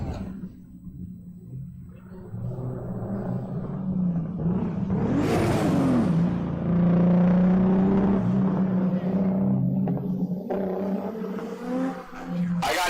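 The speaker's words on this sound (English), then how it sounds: "that Z3 sounds like nothing else" BMW Z3 drift car screaming at full throttle during a pro-am drifting qualifying run, a loud sustained engine roar that swells and wails near the middle and stays heavy, with the announcer talking over it.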